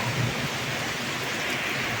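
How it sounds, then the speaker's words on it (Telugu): Heavy rain pours steadily in a broad, unbroken hiss, loud and close, with no voices and no distinct drops standing out. "ఈరోజు వర్షం అంటే ఎంత గట్టిగా వస్తుందంటే"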